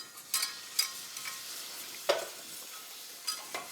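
Cold milk being stirred into a hot butter-and-flour roux in a pan over very low heat, with a soft steady sizzle and a few scraping stirs of a utensil, close and fairly quiet, no voices.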